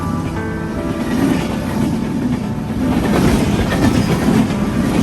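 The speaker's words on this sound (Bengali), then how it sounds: "সন্ধ্যাবেলায় প্রচন্ড ট্রেনের গর্জন।" A train passes on the Konabari railway line at dusk: a loud, close rumble of wheels with rhythmic clickety-clack and metallic hiss that swells toward the end, with no voices.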